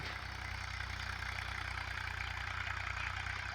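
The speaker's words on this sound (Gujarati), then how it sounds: "ટ્રેક્ટર ચલાવી રહ્યા છે." A steady, low tractor engine drone runs throughout with an even rumble and no pauses, the tractor working a field being prepared for castor sowing nearby.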